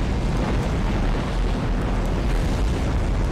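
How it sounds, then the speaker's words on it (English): Continuous heavy rumbling blast from bombs going off in Garry's Mod, a dense, loud, roaring wall of low explosive noise sustained throughout without a break. "You're trying to set off every bomb in the map!"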